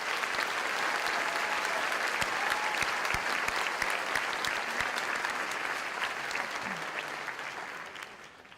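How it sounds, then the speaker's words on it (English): Audience at a December undergraduate commencement ceremony clapping steadily, a dense sustained round of applause that fills the hall and tapers off slightly at the end. "Please give them all a warm round of applause."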